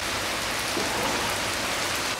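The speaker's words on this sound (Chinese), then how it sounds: "一直下大雨" A heavy downpour hammers down in an unbroken, loud roar of rain on nearby surfaces, with no voices over it.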